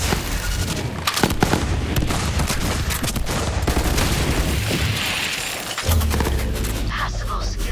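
Rapid, dense gunfire from the video game Borderlands 3 crackles continuously with bursts and booms, loud throughout with a brief pause near the end.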